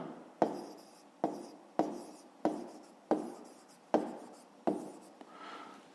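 A pen writes on paper during a fifth-grade math exercise, in seven evenly spaced scratchy strokes, each starting with a sharp tap and fading, close and fairly quiet.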